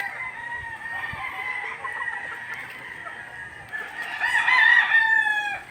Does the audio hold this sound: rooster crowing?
yes